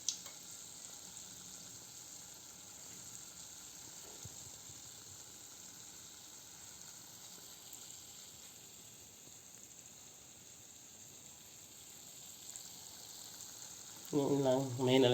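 Shakoy dough twists fry in a pan over a low flame, giving a soft, steady sizzle that hums along evenly and grows louder and busier in the last second or so.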